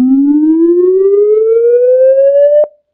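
A computer-synthesized tone generated in Racket glides steadily upward in pitch for over two seconds, loud and clean, then cuts off with a click into silence.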